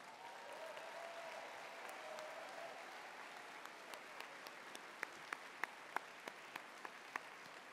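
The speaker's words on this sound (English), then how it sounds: "So let's give John Burton and his team a big round of applause." A convention audience at the California Democrats Convention applauds, a dense wash of clapping from a crowd that thins toward the end into scattered, sharper individual claps.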